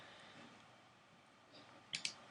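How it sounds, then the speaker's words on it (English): Mouse clicks on a button in patient simulator software, two sharp close clicks in quick succession near the end after a stretch of quiet room tone. "go ahead and just click a button"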